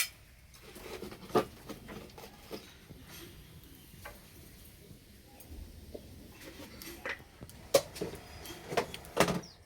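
Light metallic clinks and taps of a lid being set on a cooking pot of vegetarian soybean curry, with scattered utensil knocks and kitchen clatter, faint and close, no talking.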